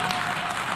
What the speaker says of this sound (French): C'est sous les applaudissements que le vote a été salué par l'Assemblée générale des Nations unies.